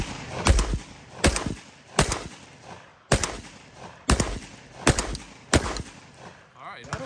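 A Mossberg 940 semi-automatic shotgun fires Federal birdshot, seven sharp, loud shots in an uneven series spaced about a second apart, with faint voices between them.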